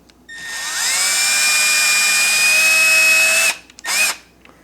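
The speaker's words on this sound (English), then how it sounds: "When we got that set, then we like to pre-drill." A power drill whirs up to a steady high-pitched spin for a few seconds while pre-drilling a hole for a kitchen drawer install, stops, then gives a brief second burst.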